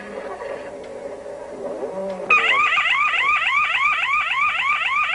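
A car alarm kicks in with a loud, rapidly warbling siren that repeats in a steady rising-and-falling cycle.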